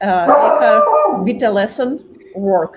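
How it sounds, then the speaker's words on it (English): A pet dog howls and yips in long wavering cries close to the microphone, running under and between a man's speech during an online discussion. "I'm sorry about my dog."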